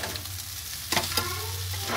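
Chow mein noodles fry in a pan, sizzling steadily, while a utensil stirs and scrapes them in two quick strokes near the middle, close and clear with no talking.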